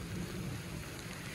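Rain pouring down in a steady, dense hiss with low rumbling underneath, heard alone for a brief moment.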